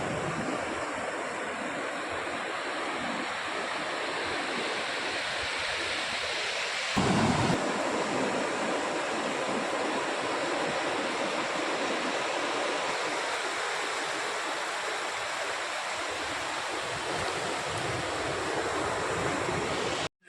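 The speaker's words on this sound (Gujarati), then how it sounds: "મિત્રો, અમે દરિયા આવી ગયા છે. દરિયાની મજા માણી લઈએ." Sea waves washing onto the shore make a continuous, full roar of surf close by, with a brief louder surge partway through and no voices.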